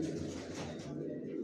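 Young racing pigeon squabs, grizzle-colored, cooing in a loft, with soft throaty coos close by and a steady low murmur throughout.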